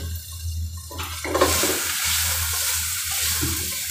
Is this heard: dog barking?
no